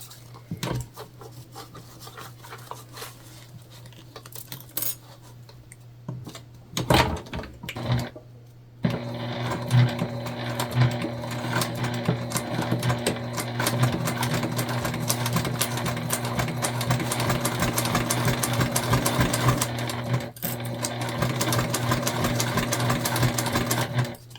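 Sewing machine top stitching through thick layers of a multi-panel tote bag, a quiet stretch of light mechanical noise giving way to a steady, louder whirring run with a hum that strains slightly as the needle hits the bulkier ends.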